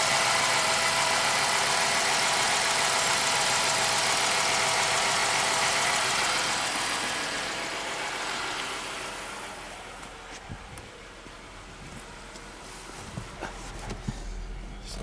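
An old Pontiac Grand Prix engine idles steadily while warming up, a broad continuous rumble that settles somewhat quieter after several seconds, with a few faint clicks and knocks toward the end and no talking.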